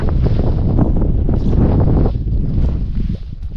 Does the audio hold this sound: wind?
yes